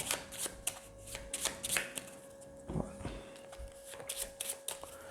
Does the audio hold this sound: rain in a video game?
no